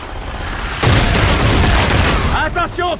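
Anti-aircraft gun exploding in Call of Duty Infinite Warfare: a sudden loud booming blast with dense rumbling, sustained about two seconds, followed by game voices and chirps.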